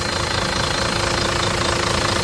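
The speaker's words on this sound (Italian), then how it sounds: "Motore Fiat Iveco" A Fiat Iveco 400 hp turbocharged inline-six of 12,000 cc runs steadily in an Astra HD7 four-axle concrete mixer truck, with a loud, close, continuous diesel rumble and fine knocking texture.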